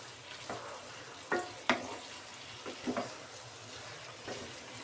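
Prawns with winter vegetables and chopped raw tomatoes being stirred in a pan, quiet scraping clacks of a spoon at irregular intervals over a soft steady sizzle.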